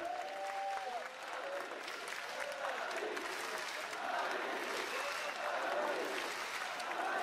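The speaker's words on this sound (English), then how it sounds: "Great hearing the chants again from the audience" An esports arena crowd cheers for Fnatic as the team walks out of the venue. A continuous roar of applause and voices holds at a steady level for several seconds, with a faint tone near the start.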